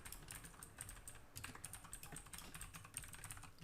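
Rapid typing on a computer keyboard while entering tasks into project-management software, a dense run of close, crisp key clicks with no talking.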